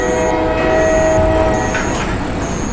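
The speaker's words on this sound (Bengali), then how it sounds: "বাইরে ট্রেনের হুইসেল শোনা গেল। ঘটাৎ ঘট শব্দ তুলে ঝড়ের বেগে ছুটে গেল কোনো এক এক্সপ্রেস ট্রেন।" An express train rushes past with its whistle sounding, a steady heavy rumble of wheels and carriages under sustained whistle tones, loud and close throughout.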